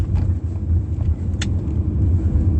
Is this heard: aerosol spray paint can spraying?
no